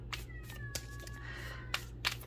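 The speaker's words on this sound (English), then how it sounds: "my kitten is screaming from the other room" A kitten meows loudly from another room, a couple of drawn-out, wavering cries heard at a distance over a low steady hum, with faint clicks and knocks around them.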